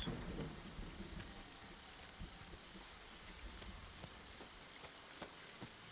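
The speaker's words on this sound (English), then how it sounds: "I wonder if the rain sound sounds like it's rain bouncing off of a tent" Rain in Friday the 13th: The Game pours steadily on a tent, a soft, dense patter with scattered sharper drops and faint low rumbles, quiet and continuous with no voices.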